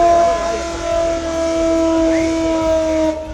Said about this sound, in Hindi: यहाँ हमले का सायरन बजते ही कुछ लोग जमीन पर